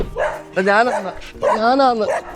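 Several dogs at a rural village home in Fiji yelp and whine in two bursts, close and loud, crowding around one person.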